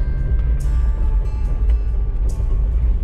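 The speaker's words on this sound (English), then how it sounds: "A little bit of thunking and bumping." A Jeep Cherokee rolls along with a loud, close low-end engine and road rumble, broken by a couple of sharp thunks and bumps from a suspected worn sway bar link or bushing.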